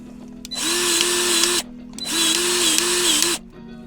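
Grease gun pumping grease into a fitting on a 4x4 truck's drivetrain, two loud sustained mechanical bursts, each about a second long, separated by a brief pause, close up.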